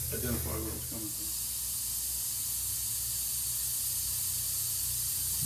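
A steady, broadband air hiss leaks from a parking brake circuit hose on an MCI 9 bus, continuous and fairly loud, with a voice speaking briefly over it at the start.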